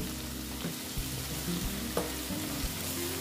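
Turmeric and Kashmiri red chili powder fry in a hot pan with a steady, close sizzle, broken by a few soft stirring knocks and scrapes.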